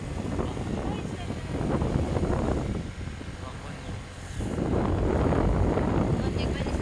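Strong wind gusts buffeting the microphone outdoors in Kiblawan, a heavy low rumble that swells, dips briefly, then surges louder again.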